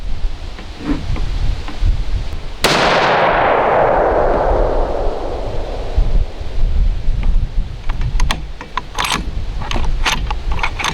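A single loud 6.5 Creedmoor rifle shot fires 125-grain Winchester Deer Season XP ammunition outdoors, a sharp crack with a long rolling echo that fades over several seconds against steady wind noise, followed by faint clicks and handling.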